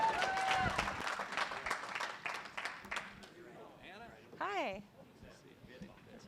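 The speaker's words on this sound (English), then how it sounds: "How about a round of applause for this Oklahoma auctioneer?" Applause for an Oklahoma auctioneer at an auctioneering college student auction, a short burst of clapping that fades within a few seconds, followed by scattered voices and someone speaking nearby.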